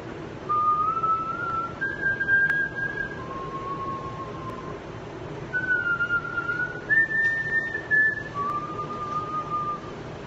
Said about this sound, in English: I can whistle it, mostly.